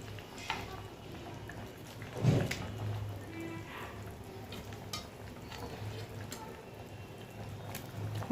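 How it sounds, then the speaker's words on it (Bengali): Spicy pabda fish curry gravy bubbles in a pot with a continuous soft popping and simmering, along with occasional stirring clinks and a low motor hum in the background. "ঝোল ফুটছে টকবক করে"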